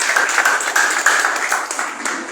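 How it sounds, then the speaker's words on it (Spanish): A burst of enthusiastic applause from a group at a political forum, dense rapid clapping that stays loud throughout and tapers slightly at the end. "Un aplauso para el compañero."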